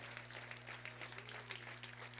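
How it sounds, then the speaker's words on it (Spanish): A church congregation claps for the Lord during a sermon, a faint, steady patter of hands over a constant low electrical hum. "dele un aplauso al Señor"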